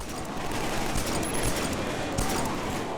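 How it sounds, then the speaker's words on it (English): Rapid bursts of gunfire in Killzone 3, sharp repeated shots crackling over dense battle noise, fairly quiet overall with a couple of stronger cracks near the middle. "Gunfire's even a bit better too."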